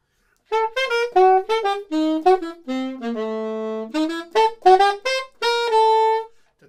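A jazz saxophone plays a swing line with every note separately tongued, giving a choppy, detached phrasing; a run of short punchy notes, one longer held low note in the middle, then more clipped notes, solo and close.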